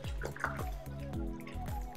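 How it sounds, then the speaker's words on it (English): Almost 2 liters of water pours into a container for homemade disinfectant handwash, making close, gurgling glugs in a rapid repeating rhythm with a continuous liquid sound throughout. "So I've poured in my almost 2 liters."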